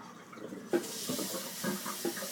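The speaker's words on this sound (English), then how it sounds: "Dump all that water in." Water is poured out while a fish tank is cleaned: a sudden splash begins a steady hissing gush of running water, with small sloshing surges near and fairly faint.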